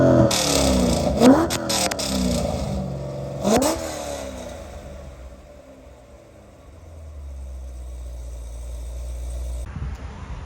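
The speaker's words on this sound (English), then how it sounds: "I love the sound of that LS9 cam. Golly. Let me give y'all a couple blips." A Corvette C6 ZR1 with an LS9 engine and cam sits at a choppy idle and is given two quick throttle blips that rise sharply and fall back, loud and close.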